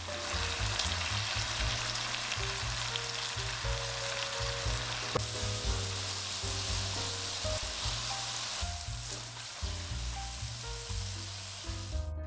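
Minced meat filling with light and dark soy sauce is stir-fried in a wok, giving a steady sizzle and hiss throughout under background music, with no talking.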